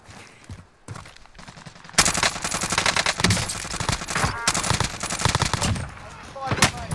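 Rapid automatic fire from a Krig rifle in a video game shooter, dense bursts of gunshots starting after a quieter opening and continuing loudly, with a voice briefly talking over the action.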